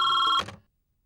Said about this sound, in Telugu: ఫోన్ అంతలా మోగుతుంటే